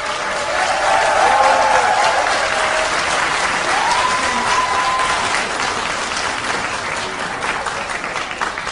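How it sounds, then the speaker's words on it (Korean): A crowd of party members claps warmly at a Democratic Party convention eve rally as the mayor arrives, dense steady applause with a few faint whistles or cheers mixed in, tapering slightly toward the end. "박수 한번 부탁드릴게요"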